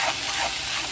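Chicken with garlic and tomato frying in a pan and being stirred, a steady close sizzle with soft scraping strokes, no voices.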